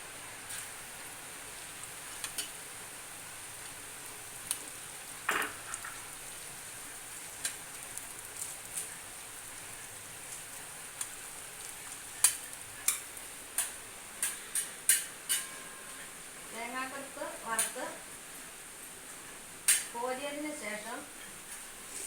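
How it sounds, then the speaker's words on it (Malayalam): Coconut pieces fry in oil in a pan for a mango payasam, with a steady soft sizzle broken by scattered ticks and clinks, and a voice speaking faintly near the end. "ഇനി തേങ്ങ വറക്കും തേങ്ങാക്കൊത്ത്"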